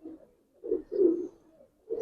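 A Giribaj pigeon in an Old Dhaka loft gives soft, low coos in a series of short rounded phrases with brief pauses between them, close and fairly faint against a quiet background.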